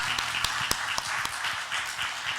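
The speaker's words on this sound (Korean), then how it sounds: "하나님께 영광의 박수 올려드리겠습니다." A church congregation gives brief applause during a Korean Sunday worship service, with scattered individual claps standing out sharply over a soft background wash and low musical tones underneath.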